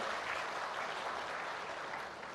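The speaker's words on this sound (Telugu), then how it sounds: "అందరూ గట్టిగా చప్పట్లు కొట్టమని కోరుతున్నా" A crowd claps steadily and densely for a couple of seconds, the applause fading slightly at the end.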